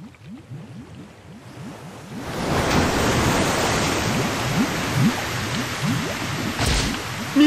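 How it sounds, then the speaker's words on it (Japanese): Water surges out in the fantasy game Tears to Tiara 2, a broad rushing gush that swells from a low rumble into a loud steady roar, with faint low bubbling pulses underneath. "水だ。"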